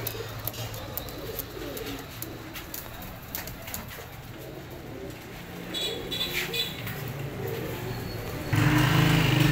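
A breeder pair of Neela Kamagar pigeons coos softly in a steady ambient setting, with someone talking over the birds.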